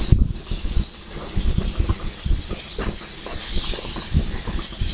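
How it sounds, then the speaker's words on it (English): Hamburger patties sizzle on an outdoor grill in a steady, loud, close hiss with scattered crackles throughout, and no voices. "Oh, listen to that sizzle."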